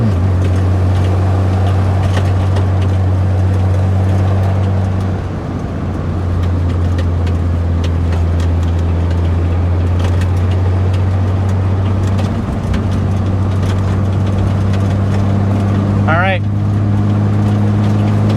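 A BMW E30 fitted with an N54 engine drives uphill, giving a steady, loud low engine drone with road and wind noise throughout and no clear change in pitch.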